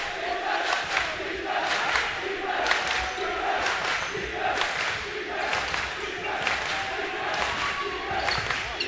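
Spectators at a high school boys' basketball championship between Blair and St. Benedict's swell into a loud, sustained roar, with rhythmic ball bounces and shoe squeaks beneath a commentator's voice.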